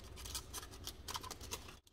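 Scissors snip excess aluminum foil off a homemade reusable K-Cup pod, giving a quick run of close, faint, crisp cuts and crinkles.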